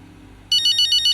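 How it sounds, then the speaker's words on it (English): A phone ringtone in the F1 25 racing video game starts abruptly: a loud, bright electronic trill pulsing in quick, even bursts, heard alone without voices. "I think it's gonna be another phone call again"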